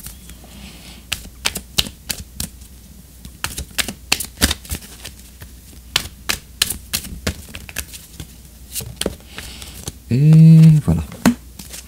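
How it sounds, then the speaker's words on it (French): Oracle cards are shuffled and drawn by hand, a steady run of light, crisp clicks and flicks, close up. A brief spoken remark is heard near the end. "on va tirer une carte oracle"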